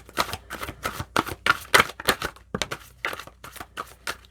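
Tarot cards shuffled close up in a steady run of crisp riffling bursts, about a dozen quick flutters one after another with brief gaps between them, and no talking.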